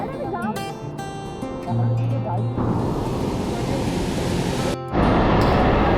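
Small waterfalls and a river rushing in Nerstrand State Park, Minnesota. The water becomes a loud, steady broadband roar after a short opening stretch of voices and tonal sound.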